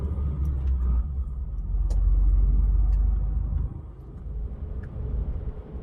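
A car climbs onto Germany's Highway 6, a steady close engine rumble swelling louder in the middle of the stretch, then easing back to a lower drone, with no voices.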